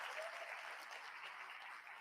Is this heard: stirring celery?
no